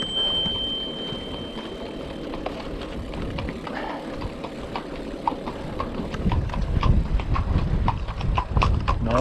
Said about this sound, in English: Now, I've got to get past this horse. I think it's a nervous horse